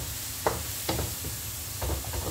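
A spatula scrapes and stirs fried noodles with beef and chili in a hot oiled pan, giving a few distinct scraping strokes over a constant close sizzle, with no talking.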